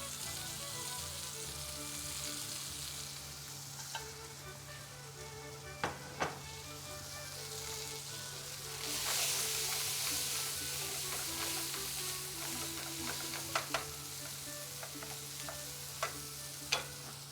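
Cooked beans go into a pan of fried mushrooms and get stirred, bringing a steady soft sizzle with scraping and occasional light clinks of the utensil against the pan, moderately close and without speech.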